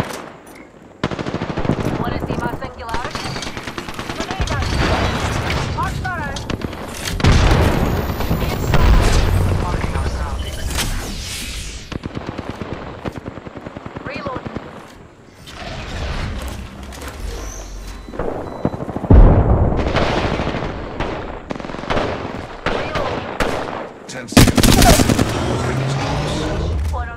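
Sustained gunfire in the shooter Apex Legends, with bursts of rapid automatic fire and sharp single shots, some close and loud, others further off, alongside occasional booms and a voice speaking between the volleys.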